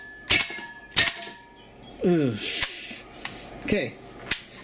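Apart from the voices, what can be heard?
WE AK74 airsoft gun shooting aluminum BBs at soup can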